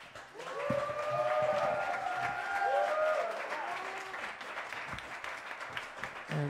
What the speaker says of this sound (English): We appreciate your applause